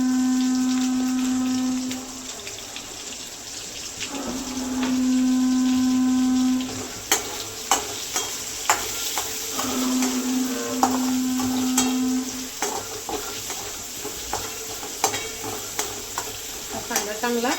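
Chopped onion sizzling and frying in a cumin tempering, steady hiss punctuated by stirring clicks and scrapes, with a pressure-cooker-like whistle tone sounding intermittently in the background.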